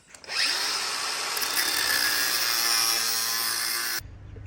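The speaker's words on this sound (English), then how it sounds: "Cutting the plug in half." Power tool cutting a spark plug from a Honda K24 engine in half, a loud high-pitched grinding whine that spins up quickly, holds steady for several seconds, then stops abruptly.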